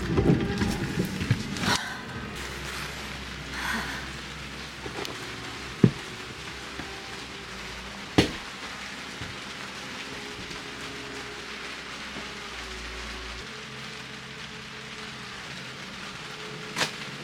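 Steady rain falling on a sailboat, a constant wash of patter with a few sharp knocks and a low rumble beneath.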